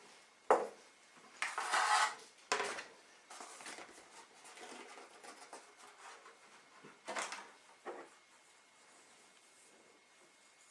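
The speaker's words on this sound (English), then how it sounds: "we're going to mix all the dry ingredients together." Dry ingredients with rosemary, basil and thyme being stirred in a bowl with melted butter, heard as intermittent scraping and clinking of a utensil against the bowl, close and moderately loud in short bursts.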